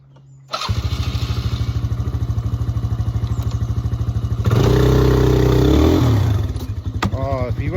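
A Polaris quad bike engine fires up and runs loud and close with a rapid chugging idle, then revs hard for about two seconds while stuck before dropping back, and a voice speaks briefly near the end.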